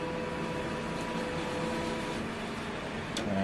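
A large-format roll-media printer runs its carriage across to locate the left edge of the media, a steady mechanical whir and hum with faint clicks near the start and end, close and continuous.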